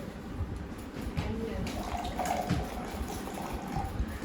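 Water pours and splashes steadily into a container while voices chatter in the background.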